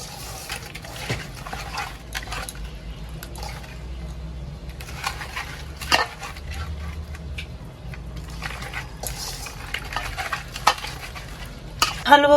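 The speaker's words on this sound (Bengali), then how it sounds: "এবার মাছের সাথে মশলাগুলো ভালোভাবে মাখিয়ে নেব।" Katla fish pieces are worked by hand with spices, salt and a little oil in a bowl: soft, close squelching and stirring with occasional clinks of the dish, and no talking.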